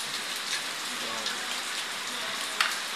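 Rain falls steadily during a power outage at home in the Philippines, a soft even hiss of drops with a few louder patters, fairly quiet and close.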